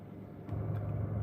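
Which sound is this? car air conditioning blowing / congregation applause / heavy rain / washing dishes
car air conditioning blowing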